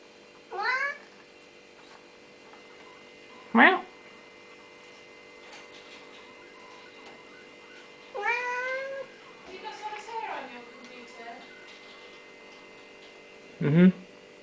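A Siamese cat meows several times in short, rising calls spaced apart, close by, over a steady low electrical hum.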